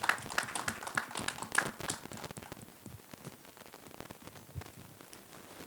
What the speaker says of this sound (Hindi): श्रीजी के लिए एक बार जोरदार ताली होनी चाहिए।